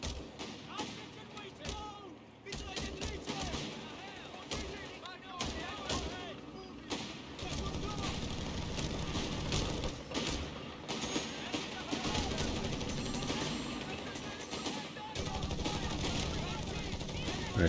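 Dense battlefield gunfire from Company of Heroes 3, with a machine gun rattling among heavy artillery booms and scattered shots, loud and continuous across the whole stretch.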